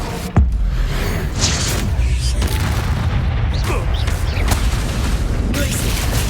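A spell cast in Hogwarts Legacy sets off a sharp magical burst, followed by a sustained roaring, rumbling whoosh of fire that stays loud and steady for several seconds.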